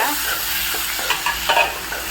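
Tomatoes sautéing in a hot pan for a South Indian greens dish (keerai kadayal), giving a steady close sizzle with a few scraping stirs of a spoon over it.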